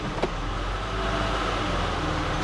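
A 2007 Honda Pilot with a 3.5L engine idling steadily, a constant low rumble heard close up with no talking.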